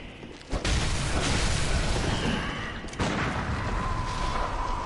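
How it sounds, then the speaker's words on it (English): Gunshots finish off an enemy in the video game Bloodborne, two sharp booming blasts about two and a half seconds apart, each followed by a sustained rumbling wash of game noise. "I just love finishing them off with a gunshot."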